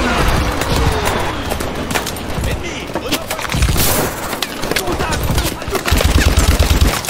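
Rapid bursts of video game gunfire from Call of Duty: Advanced Warfare, during an attack on a bridge, crackle loud and close in sustained volleys, with someone talking over the shooting.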